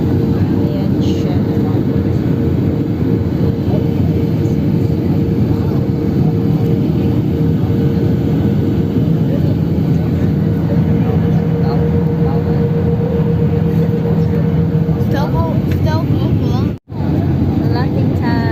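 An airplane landing, heard as a loud, steady cabin roar of engine and rushing air that lasts throughout, with a brief dropout near the end and people talking over it.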